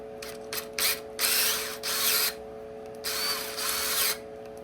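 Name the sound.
power drill with 3/8 inch bit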